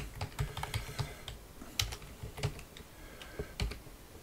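A MongoDB query is typed on a computer keyboard, with irregular clicks and key taps, some louder strikes standing out, close up and with no talking.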